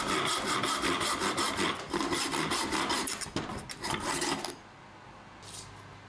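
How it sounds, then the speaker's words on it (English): A hand rip saw cuts through wood for a boot jack, making a steady run of rhythmic rasping push strokes for about four seconds before stopping, leaving a quiet room. "and then use a rip saw to make the cuts"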